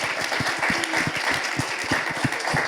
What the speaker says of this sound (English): Big round of applause, please, to our fabulous panelists.